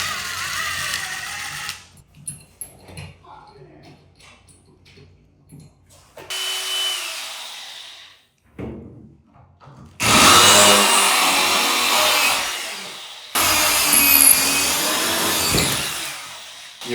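A power drill fitted with a half-inch bit bores holes in short, loud bursts of a couple of seconds each, separated by pauses, while a handicap stall and urinal partition is installed in a restroom.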